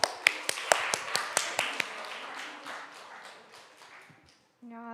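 A small audience at a church young adults' Sunday service claps in a quick series of sharp, close claps that thins into a softer, fading patter, with speech beginning at the end.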